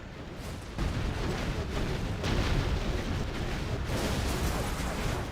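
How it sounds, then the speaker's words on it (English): A MOAB bomb detonating in the strategy game Command & Conquer: Generals Zero Hour during a tournament match, a sustained low rumbling roar of explosion that swells and lingers without pause for several seconds. "there's the Moab explosion"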